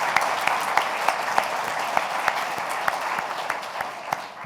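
Conference audience at an American democracy event gives a round of applause, a continuous wash of many clapping hands with a few sharper claps standing out, steady and unbroken.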